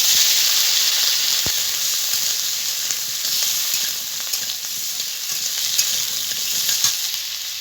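Cut potatoes frying in oil left from frying fish, a strong steady sizzle and crackle with occasional sharp pops, close and continuous without talk.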